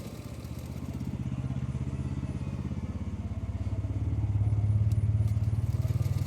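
A sewing machine stitches a kurti, giving a steady, fast, low mechanical hum with a dense rhythmic chatter that runs without a break and swells slightly louder toward the end.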